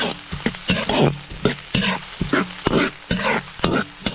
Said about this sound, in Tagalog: Atin na pong igigisa.